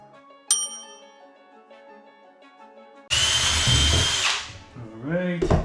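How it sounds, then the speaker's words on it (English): A small 1/8-inch bit drills into material while building a subwoofer enclosure for a 2023+ GR Corolla, a loud burst of whining power-drill noise after some quiet tones, then winding down. "Now we have a super small drill bit. It's a 1/8. Then we drill this guy."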